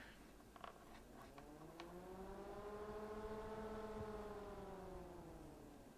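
A Jonsbo Magic Fan ZF-120 ARGB PC fan hums faintly as its motor spins up and back down, the whining tone rising in pitch, holding, then falling away over several seconds with soft clicks at the start.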